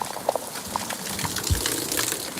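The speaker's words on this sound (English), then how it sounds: "Gully washer." A heavy gully-washer downpour pours down as a dense, steady roar of falling water, with a brief low thump partway through.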